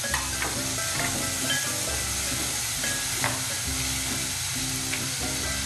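Finely chopped onions hitting hot oil tempered with spices, a close, steady sizzle with occasional soft stirring clinks and crackles throughout, moderately loud, no voices.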